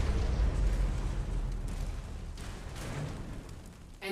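A nuclear warhead detonating in the mobile strategy game C&C Rivals: a heavy, broad rumbling blast that starts at full strength and slowly thins over four seconds, then briefly surges again, with no speech.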